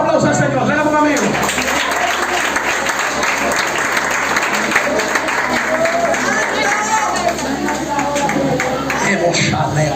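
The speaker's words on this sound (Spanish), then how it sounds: "Suéltale un aplauso al Señor." Applause from a congregation at an evangelical church service fills the space, a dense, continuous clatter of clapping that holds steady throughout, with voices and musical tones running underneath.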